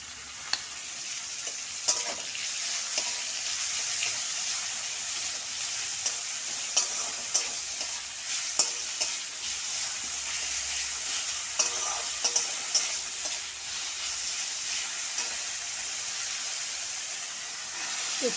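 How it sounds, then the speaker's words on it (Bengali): Green chillies, carrot, capsicum and tomato stirred and frying in oil for chowmein, a steady bright sizzle with repeated scraping stirs and clinks throughout. "ভালোভাবে নেড়ে চেড়ে নেব।"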